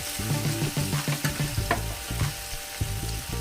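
Vegetables with ginger paste and radhuni are stirred in a pan for shukto, a close frying sizzle under rhythmic scraping strokes and a low steady hum throughout.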